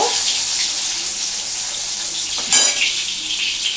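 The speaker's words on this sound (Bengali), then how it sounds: "এবার আমি রসুনটা এর মধ্যে দিয়ে দেবো হয়ে গেল এটা একটু নাড়াচাড়া করব" Chopped garlic frying in hot oil in a pan for a boal fish curry, a steady bright sizzle throughout with a brief clatter of stirring midway, close and fairly loud, no talking.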